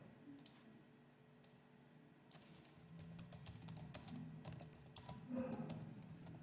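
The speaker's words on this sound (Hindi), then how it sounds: "मैं लिख देता हूं दिस इज माय लैपटॉप।" Fingers typing on a laptop keyboard, first a few isolated key clicks and then a quick, uneven run of close, crisp keystrokes, with no voices.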